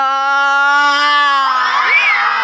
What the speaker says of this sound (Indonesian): Teriakan semua suara keluarkan.